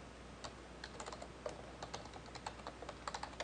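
A computer keyboard is typed on while an email address and password are entered, with a quick irregular patter of soft, close key clicks throughout.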